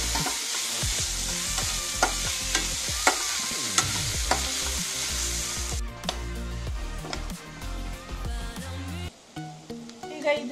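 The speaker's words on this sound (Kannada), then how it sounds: "ಇದು ಬ್ರೌನ್ ಬರುವವರೆಗೂ ಹುರಿಯಿರಿ" A carrot and potato mixture for manchurian sizzles steadily in a hot pan while a spoon stirs it, with repeated scraping and clinking against the pan over the continuous frying hiss.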